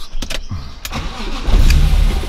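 A BMW S54 engine swapped into an E36 is cranked and fires up, settling into a loud, rough, close idle with a deep rumble.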